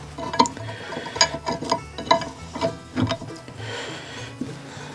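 A ratchet clicks in bursts while a connecting rod bolt is turned on a 1965 VW 1200 40hp engine during reassembly, with close, loud pawl ticks in several quick runs and pauses between them.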